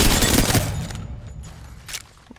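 R99 submachine gun in the video game Apex Legends fires one rapid, dense burst that cuts off and leaves a fading tail with a couple of faint clicks.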